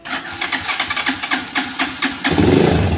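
A 19-year-old Motorstar Explorer Z 200 motorcycle engine, somewhat cold, cranks with rhythmic chugging pulses, then catches and roars into a steady, louder running sound.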